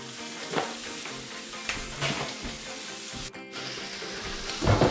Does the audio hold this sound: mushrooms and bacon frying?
yes